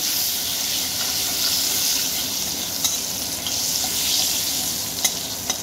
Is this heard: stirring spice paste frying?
yes